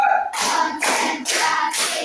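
Classroom group clapping in unison to a counted clap routine, four loud, evenly spaced bursts of many hands close by, with no talking.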